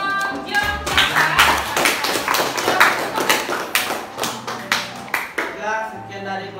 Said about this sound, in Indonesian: tepuk tangan untuk kelompok Jong Java